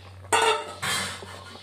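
Fried pieces of chara pona or rui fish go into a thin, boiling curry with raw plantain and potato, making two close clattering, splashing hits in quick succession followed by a soft bubbling.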